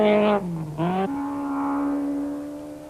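A 1991 Mountain Trail rally car at speed on stage 8, its engine note climbing and dropping through quick gear changes before settling into a steady, sustained roar.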